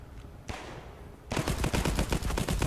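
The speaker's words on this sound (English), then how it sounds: "I'm getting shot at" Rapid automatic gunfire in the shooter game Marauders, near and loud, opening with a single burst, then a steady volley of evenly spaced shots that fills the second half.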